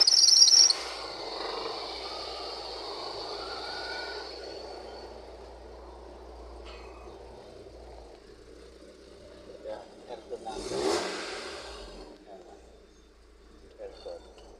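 A BMW engine with an erratic, rising-and-falling RPM fault, heard as a loud brief burst at startup that settles into a steady low idle rumble, with faint voices and a short louder noise partway through.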